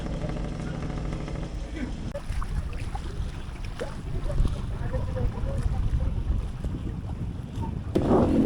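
A passenger boat bound for Jomalig Island in Quezon Province carries a steady wind-buffeted engine and water rumble, with wind noise on the microphone and a brief louder burst near the end.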